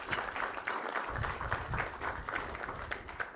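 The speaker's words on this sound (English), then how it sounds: "And I want us to applaud the partnership." Audience applause at a Guyana government announcement on a national health care initiative, a dense continuous clapping from a large crowd that stays loud and steady throughout, with no speech over it.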